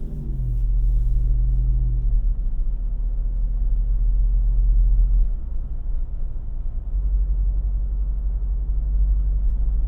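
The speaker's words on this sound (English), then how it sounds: "Hopefully this doesn't blow out my microphones, because this vehicle is pretty loud." A 2024 Jeep Wrangler Rubicon 392 Final Edition with its V8 engine rumbles deep and loud from inside the cabin while driving, the engine note dropping and swelling as it shifts, with no talking.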